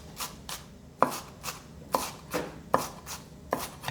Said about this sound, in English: I'm just haphazardly cutting this shit into smaller and smaller pieces.